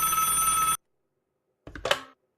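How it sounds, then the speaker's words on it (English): A telephone rings in a video game, one loud electronic ring burst that stops abruptly, followed after a short silence by a second, briefer ring. "Don't answer. It isn't your phone."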